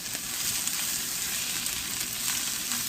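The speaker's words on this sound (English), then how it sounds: "And stir that all together." Turmeric, cayenne, whole cloves, cardamom seeds and cinnamon sizzle steadily in hot oil while being stirred, a close, continuous hiss with no voices.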